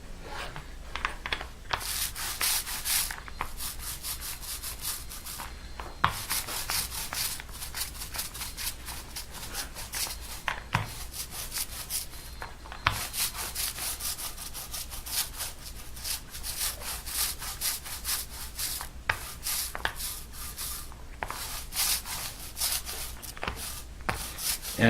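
Steady abrasive rubbing of sandpaper over a resin-coated fabric guitar top, a continuous scratchy hiss with irregular strokes and brief pauses, close and moderately loud, no voices.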